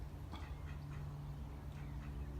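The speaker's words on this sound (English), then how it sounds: "Look at the cute little ducks!" Several soft duck quacks come in short scattered bursts over a steady low outdoor hum by a canal, fairly quiet and a little distant.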